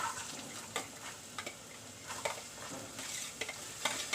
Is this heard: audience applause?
no